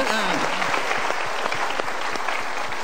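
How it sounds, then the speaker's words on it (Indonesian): A seated audience at a motivational talk show breaks into dense, steady applause that fills the moment, close and loud, with no voice over it. "kita berikan tepuk tangan dulu"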